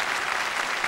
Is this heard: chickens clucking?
no